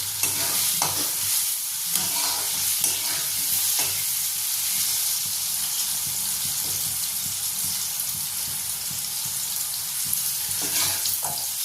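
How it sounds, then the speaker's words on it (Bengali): Small potato pieces fry in hot oil, giving an even, loud, continuous sizzle with occasional soft stirring knocks and no voices. "দেখো আলুগুলো আমাদের ভাজা হয়ে গেছে, এবার তুলে নেব।"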